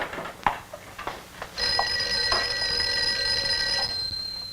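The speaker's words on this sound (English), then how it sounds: "I think your phone is ringing." A telephone in a 1950s office rings with a sustained electric bell tone after a few soft taps and clicks, steady and moderately close.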